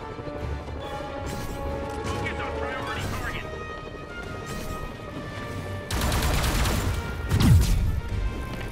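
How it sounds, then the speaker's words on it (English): Bursts of gunfire and crashing impacts during a high-speed car chase in Marvel's Spider-Man Remastered ring out over a steady backdrop of game music and engine noise, growing louder and denser toward the end. "a high-speed chase with indiscriminate gunfire"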